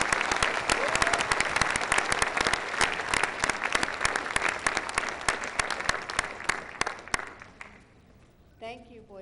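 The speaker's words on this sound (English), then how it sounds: "One final round of excellent applause for these students." An audience at a school board meeting applauds students with sustained, dense clapping for several seconds before it thins out, and a voice is heard briefly near the end.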